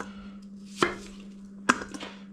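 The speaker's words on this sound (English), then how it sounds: "we're gonna slice these down one more time." Knife cutting apples for an apple pie, two crisp, distinct chops about a second apart on a board with a quiet steady hum behind them.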